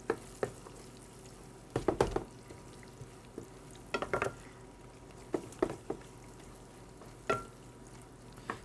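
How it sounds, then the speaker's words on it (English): In a pan for carbonara sauce, garlic sautés after crisping meat, a soft sizzle underneath with intermittent scraping stirs and clacks of a utensil against the pan. "And then we're going to add our garlic so we can saute it"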